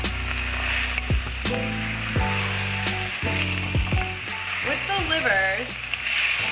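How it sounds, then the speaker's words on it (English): Chicken livers sear in a hot pan with fresh herbs, giving a steady close sizzle with scraping and stirring clatter throughout. "And then we're gonna go straight in with the liver."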